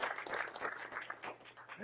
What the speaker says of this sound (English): Give Charles a round of applause.